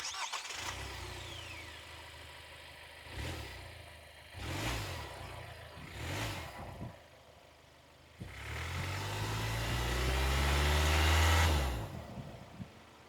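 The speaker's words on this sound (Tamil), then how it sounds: "இந்த வெஹிக்கிளோடைய இன்ஜின் நோட்டை கேளுங்க" A Hyundai Venue diesel SUV engine with automatic transmission cranks and catches, revs a few times in short bursts, then settles into a rough, steady idle before one longer, louder rev.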